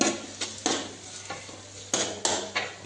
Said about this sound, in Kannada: ಇದಕ್ಕೆ ಈಗ ಆನಿಯನ್ ಉಳ್ಳಾಗಡ್ಡಿ ಹಾಕಿ ಫ್ರೈ ಮಾಡತ್ತೀವಿ